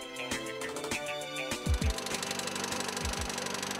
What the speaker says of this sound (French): le meneur de l'épreuve, Antoine Lestage, revenait au service avec un bruit étrange provenant du moteur